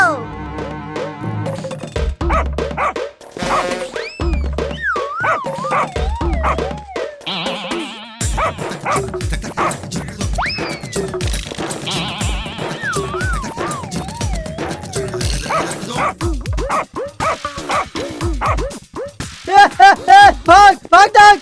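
A cartoon dog barking and whimpering in a Hindi comedy cartoon, yips and howls scattered among excited character voices and music.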